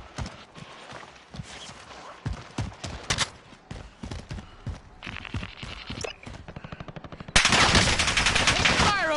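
Rapid bursts of automatic gunfire in a military shooter video game, sharp repeated shots in uneven clusters building to a loud sustained barrage near the end, with faint game voices underneath.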